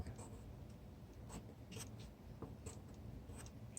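Handwritten Chinese characters being formed stroke by stroke, a soft scratchy pen-on-paper scrape coming in short bursts with brief pauses, close and quiet over a faint background hiss.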